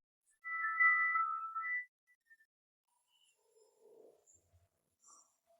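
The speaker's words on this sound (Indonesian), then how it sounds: "Itu HP Tianle bunyi." A mobile phone rings in a hospital setting, with a short electronic ringtone melody rising clearly for about a second and a half and then stopping, followed by faint scattered sounds in near silence.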